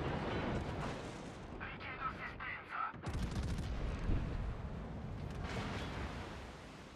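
Naval guns on warships in World of Warships fire and shells boom, with a dense, continuous roar of battle broken by a brief lull.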